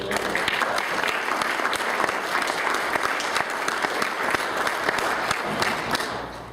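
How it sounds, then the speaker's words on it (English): Sustained round of applause from an audience honoring veterans' service, a dense steady patter of many hands clapping at full strength throughout without a break. "So I give them a round of applause."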